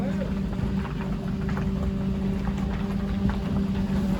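An ice groomer's engine runs under added throttle, a steady low mechanical drone with a constant hum, fairly close and continuous with no clear change in pitch.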